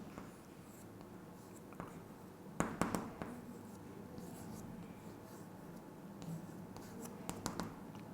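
Pen or pencil scratching across a workbook page while cakes are drawn for a class 3 data-handling exercise, soft repeated strokes with a few sharper taps, close and quiet, no talking.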